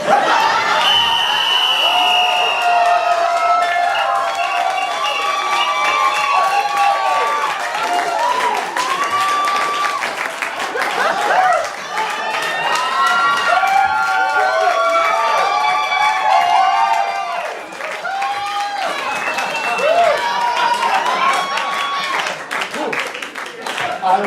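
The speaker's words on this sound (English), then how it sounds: "That is the first ever applause break in the history." A live improv comedy show audience keeps up sustained applause mixed with cheering and excited voices, steady and loud from start to finish.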